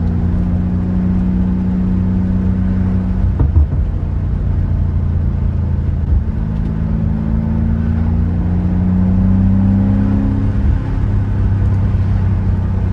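A BMW M5 cruises along with a steady low engine drone and exhaust rumble from inside the cabin, with a few soft burbles and small swells in revs over a constant road hum.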